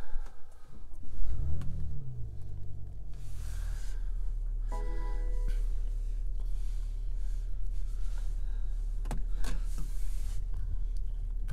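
A 2019 BMW X5 M50d M-Sport with its 3.0-litre diesel starts up: a brief cranking catch, then a steady low idle settling in close by, with a few soft clicks and no talking.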